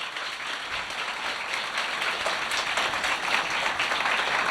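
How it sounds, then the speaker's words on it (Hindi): A church congregation applauds loudly and steadily for Jesus, a dense wash of many hands clapping together that holds strong from start to finish with no voices above it. "ये तालियां यीशु के लिए तो फिर जोरदार होनी चाहिए।"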